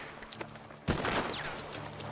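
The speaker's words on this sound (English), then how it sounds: "The gunshots are coming from that." A sudden burst of gunfire rings out in the Red Dead Redemption 2 video game, a sharp volley followed by a ringing tail over a low background.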